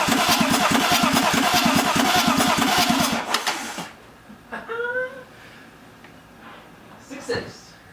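A BMW E36 starter cranks the engine in a fast, rhythmic churn for a few seconds, then cuts out, leaving quiet with a brief voice.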